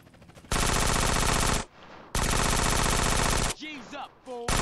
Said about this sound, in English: Wow, the shotgun can hit from here.